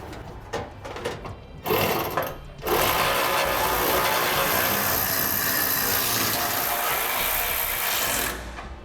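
A power tool buzzes steadily as it runs down bolts on the spare tire heat shield of a Ram truck, preceded by a few short bursts and then one long, loud, continuous whir.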